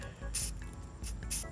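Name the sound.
spraying black primer onto salt on a model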